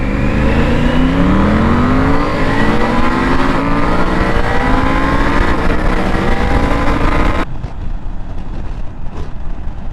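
A Triumph Tiger 900 motorcycle fitted with an aftermarket Aero exhaust revs hard and continuously, its rising engine note loud and close for about seven seconds before cutting off abruptly, leaving only faint low rumble.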